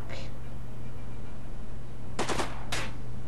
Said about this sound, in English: Stop shooting at him!